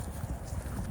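Horse hooves clip-clop briefly and faintly on the ground at night, from a small group of three mares and a donkey, a short irregular patter without talk.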